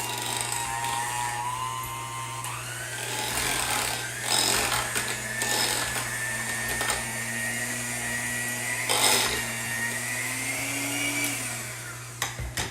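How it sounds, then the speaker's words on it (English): A hand mixer whirs steadily through cream cheese for a keto cheesecake, its motor pitch shifting as the beaters bite, running continuously and close with no talking. "And then I am going to use my hand mixer."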